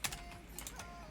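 Keystrokes on a computer keyboard while working on websites, a short burst of several quick clicky taps close to the microphone, a couple of them louder than the rest.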